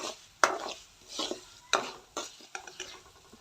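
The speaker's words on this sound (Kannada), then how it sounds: "ಮಸಾಲೆಯಲ್ಲಿ ಕೊತ್ತಂಬರಿ ಕಾಳನ್ನು ಹಾಕಿ ಮತ್ತೆ ಅದನ್ನು ಫ್ರೈ ಮಾಡ್ತಿದ್ದೇನೆ" Coriander seeds fry in spice masala in a pan while a spoon stirs, giving a few sharp scrapes and knocks over a soft, faint sizzle, close by and without talk.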